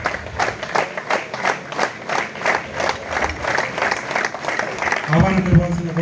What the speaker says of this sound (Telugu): గట్టిగా చప్పట్లు కొడుతూనే ఉండాలి.